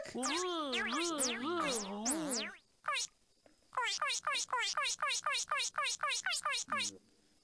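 Cartoonish frog noises in the puzzle game Chuchel, warbling wobbly calls first, then a fast regular series of about a dozen springy boing-like croaks.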